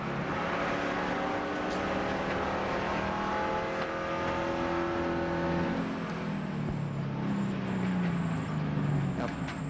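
NASCAR stock cars circle the track during a race, their engines droning with gliding pitch as they pass, while a commentator talks over the steady roar.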